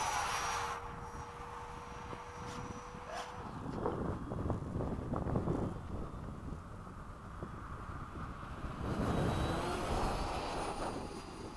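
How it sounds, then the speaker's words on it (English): A Freewing 90mm F-22 RC model jet flies after sunset, its ducted-fan whine rising and fading at a distance amid wind noise, with no talking. "Such a cool plane."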